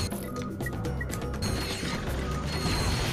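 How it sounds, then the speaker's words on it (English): Crates breaking in Ratchet & Clank Up Your Arsenal, a busy clatter of mechanical cracks, ratcheting clicks and smashing thuds over a steady game backdrop, repeated throughout at fairly even loudness. "I'm just doing this to help break the boxes"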